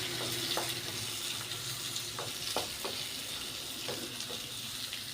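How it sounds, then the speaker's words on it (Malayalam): Green chilies and curry leaves sizzle steadily in oil in a pan, with occasional stirring scrapes over the constant frying hiss. "രണ്ട് ഇതൾ കരിവേപ്പിൽ ഇട്ട് കൊടുത്തിട്ട് ഒന്ന് വഴറ്റിയെടുക്കുക"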